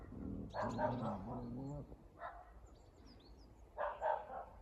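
Street dogs on a road in Ukraine bark and growl in a few short bursts at moderate distance, with a person's voice talking and faint birds in the background.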